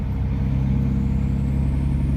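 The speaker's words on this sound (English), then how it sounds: "And we're going to go drive a truck" A steady, low engine rumble of a truck, constant and close, with a deep drone holding through the whole stretch and no voices.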